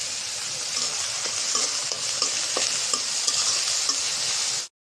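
Onion paste and a little garlic paste fry in oil, a bright close sizzle with quick scraping stir strokes, cutting off abruptly near the end.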